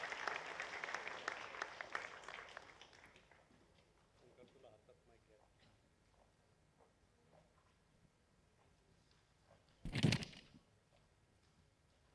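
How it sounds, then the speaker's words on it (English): Audience applause at the KPIT Sparkle grand finale welcoming a speaker, a burst of clapping that dies away after a few seconds, followed by quiet room sounds and a brief loud thump. "A big round of applause for Mr."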